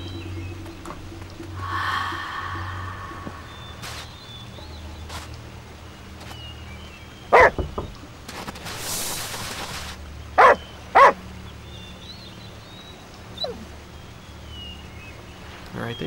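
A dog barks in the hidden-object adventure game Nightmares from the Deep 3, a few sharp barks and yips scattered over ambient game music and effects.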